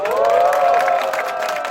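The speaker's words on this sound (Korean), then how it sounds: "여기 모이시는 선생님들의 힘찬 함성으로" A crowd of teachers at a protest rally against unjust disciplinary action raises a loud, sustained collective shout and cheer, voices blending into one swelling roar throughout.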